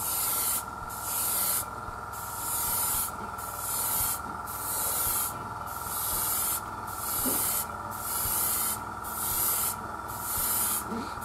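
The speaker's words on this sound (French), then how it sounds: "on ne démarre jamais le premier jet de bombe sur la maquette, on le fait un peu à côté, puis on fait des passes" Bursts of spray paint hiss from an aerosol can in regular passes over a Tamiya 1/48 F-14D scale model kit, about ten even blasts with short pauses between, close and loud, no speech.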